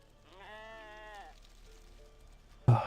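Sheep in the video game RuneScape 3 bleating once, a single wavering, moderately loud call, then near quiet before a sudden sharp burst of game sound at the end.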